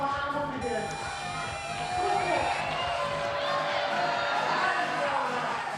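A crowd at the Dock Masters finals cheers and whoops steadily behind a commentator's voice, with a steady electronic tone running through the first part.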